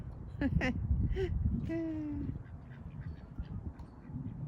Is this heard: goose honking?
yes